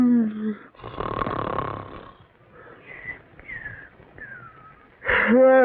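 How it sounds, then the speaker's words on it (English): A person snores loudly in a few rough, rasping breaths, with a wheezy whistle on the out-breaths, close and alone, ending in one more harsh snort. "Either stop snoring or cover your head with pillows"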